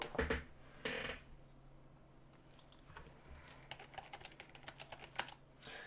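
Rapid clicking of a computer keyboard being typed on indoors, with a few louder thumps at the start, then a steady run of close, irregular keystrokes.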